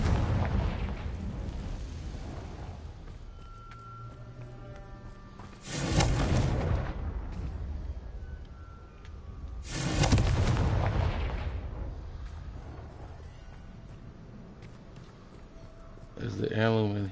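Confringo fire spells cast in Hogwarts Legacy, two heavy booming blasts with crackling tails about four seconds apart, and a third starting at the end, over a low rumbling game backdrop with a voice talking.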